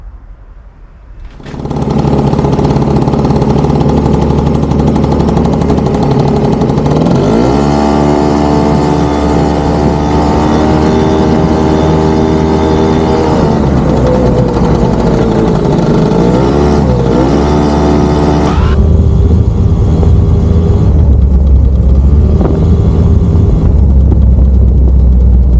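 Modified X Stream car, fitted with wide wheels, starting up and driving off: a loud, steady engine drone with harmonic whine rising and shifting as it revs, growing rougher and closer near the end, with no talking.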